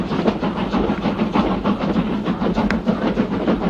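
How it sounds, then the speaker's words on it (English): A slow passenger train rolls along the rails with a steady rumble and rhythmic clatter, heard from inside the carriage at a constant, moderate level. "Our chauffeur has ensured that we have indeed caught this train."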